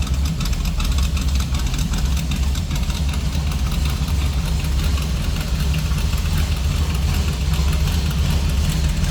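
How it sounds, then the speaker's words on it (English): A 1972 Chevrolet C10 truck's 350 V8 idles through side-exit exhaust with a steady, loud low rumble and an uneven, lopey pulse that continues throughout. "Little rumble coming out of that 350."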